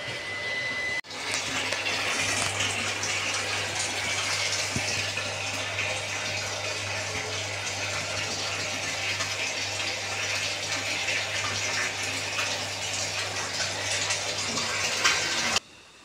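A water pump controlled by an automatic Mofuji MST-70AB radar switch kicks on abruptly, then runs with a steady motor hum and rushing, gushing water, cutting off at the end.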